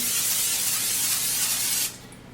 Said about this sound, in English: we are going to just, of course, spray with some olive oil spray